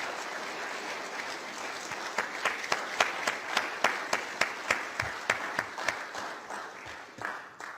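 An audience applauds at the end of an evening talk. Dense clapping turns into a steady rhythmic unison clap for a few seconds, then loosens and tapers off.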